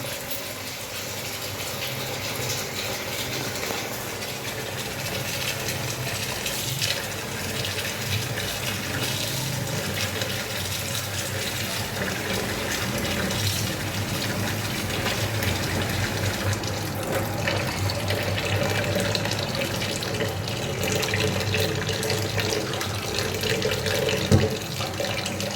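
Tap water runs steadily into a sink for a long stretch while chicken pieces are washed for curry, a constant close gushing with faint clatter and no talk.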